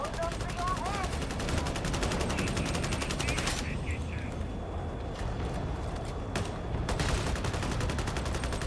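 Rapid bursts of automatic gunfire from enemy gunners in Warhammer 40,000: Darktide, a dense, sustained fusillade of repeated shots filling the soundscape with brief pauses before resuming.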